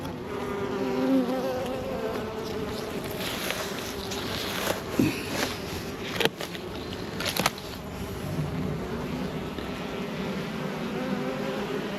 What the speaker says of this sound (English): I've got these ghost bees coming in here.